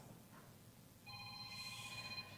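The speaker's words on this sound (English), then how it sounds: "Listen, we better answer that phone." A telephone rings with a bright electronic tone, starting about a second in and holding steady, fairly quiet against a faint room hum.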